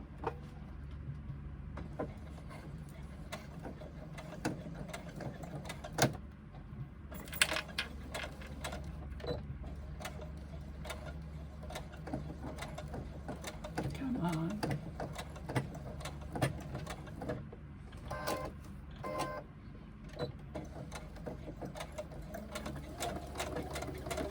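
A sewing machine stitches across the end of a zipper tape on a small pouch, running steadily with a rapid mechanical whir and clatter, close and fairly quiet, with short pauses between bursts.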